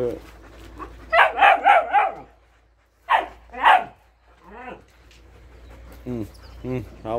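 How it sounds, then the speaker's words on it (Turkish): A Malinois puppy barks in quick bursts, a run of four yaps followed by a pair, close and sharp, with a voice speaking around and between the barks. "havladı havladı"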